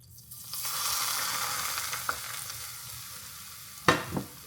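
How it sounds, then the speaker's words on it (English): Dumplings fry in hot oil with a steady, close crackling sizzle and a couple of sharper pops near the end, no talking. "Ooh, hear that sizzle?"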